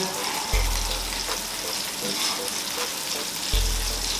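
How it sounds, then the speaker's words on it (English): Meatballs frying in oil in a pan, a dense continuous sizzle close by with occasional gentle stirring and oil movement, steady throughout with brief low knocks. "Make sure that you move your oil gently around the pan"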